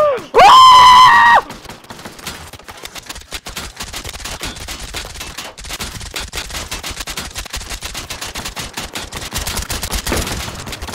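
Loud, dense automatic gunfire in a first-person shooter game, a continuous rattle of rapid shots after a brief loud tone at the start, growing slightly louder toward the end, no voices.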